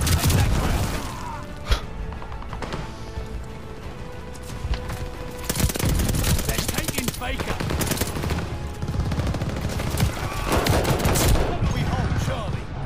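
Gunfire from a Call of Duty Vanguard multiplayer match rattles in dense bursts of rapid automatic shots, loud and near, with a lone sharp shot early and heavy volleys later, while a player talks over it.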